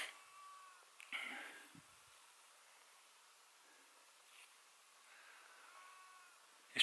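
Sheep bleat on a quiet hillside in the Brecon Beacons, with a couple of faint, distant calls near the start and again near the end, separated by near-silence.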